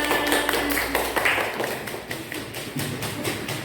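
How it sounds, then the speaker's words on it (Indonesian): Children clap for a group presentation in a classroom, a loud burst of dense, rhythmic hand claps that holds steady and then thins slightly toward the end. "Tepuk tangan."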